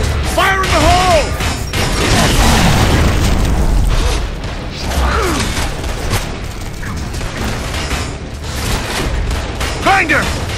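A grenade explosion in the video game Gears of War: Judgment booms loudly amid heavy gunfire and mechanical clatter in a courthouse battle, with voices shouting over the chaotic din.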